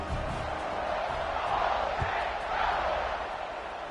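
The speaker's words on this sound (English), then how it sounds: "this crowd is buzzing after that last score" Steady stadium crowd murmur and buzz in College Football 26, Penn State Nittany Lions at Ole Miss Rebels, a dense continuous roar swelling slightly midway, with no clear individual cheers.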